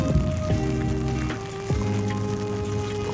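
Steady rain falls during a tropical storm in Miami, a continuous wash of dense patter heard outdoors and fairly close, with a low engine-like hum and tonal drone running underneath.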